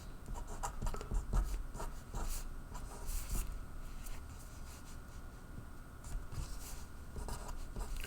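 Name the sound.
writing on a board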